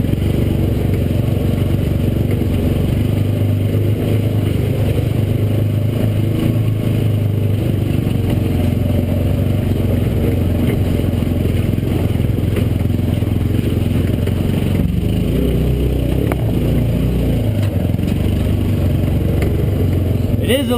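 Massimo MSU400 4x4 side-by-side driving in two-wheel drive through a creek, a loud constant engine drone with rattles and clatter from the rough ride, someone talking over it.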